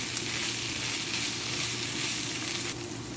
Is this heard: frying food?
yes